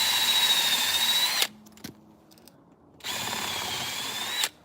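A cordless drill fitted with a hole saw and pilot bit bores eye holes into a chainsaw-carved wooden bear, a loud close whine running in two long bursts separated by a quiet pause with a small knock.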